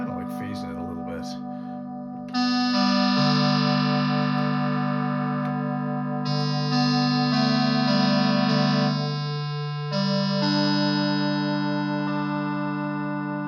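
Roland Jupiter-8 synthesizer holding sustained, buzzy chords with its second oscillator slightly detuned, giving a slow phasing, chorus-like shimmer; notes shift between long held tones after a brief busy opening.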